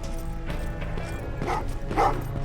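Several dogs bark in short bursts over a busy, dense background of game sound in Terminator: Resistance, the louder barks clustered in the second half.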